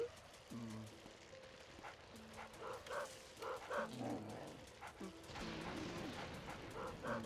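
A dog in the Luigi's Mansion game on Nintendo Switch yips and barks in repeated short bursts, fairly faint, mixed with game sounds and light background talk.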